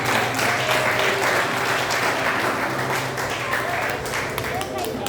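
Church congregation at a revival evening applauding, a thick, sustained roar of many hands clapping with voices mixed in, loud and continuous.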